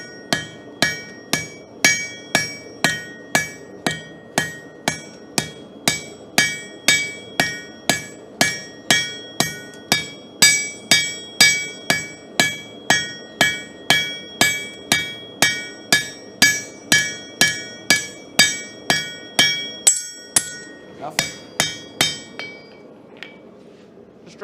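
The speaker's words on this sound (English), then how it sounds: "I'm just moving this steel down to the thickness" Steel is hammered on an anvil to draw it down to thickness at a blacksmith hammer-in demo, with loud, evenly spaced ringing blows repeating for over twenty seconds and a brief pause near the end.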